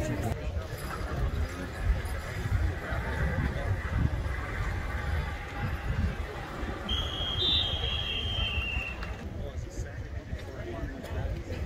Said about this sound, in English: Never seen a horse pull before.